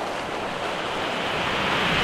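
A broad, steady rush of water washes over characters in The Ironclad, a continuous surf-like roar that swells slightly louder toward the end, with no speech.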